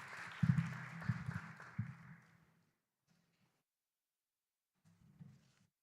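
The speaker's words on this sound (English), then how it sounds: "let's give them a round of applause" A debate audience gives a short burst of applause that fades out after about two seconds, followed by near silence and a brief faint rustle near the end.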